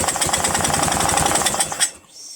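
A Briggs & Stratton flathead engine on a Murray lawn tractor, with low compression and a carburetor likely full of oil, fires briefly in a rapid loud sputtering burst, then cuts out abruptly into near silence.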